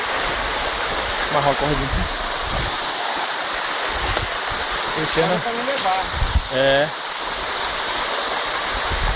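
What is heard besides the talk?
waterfall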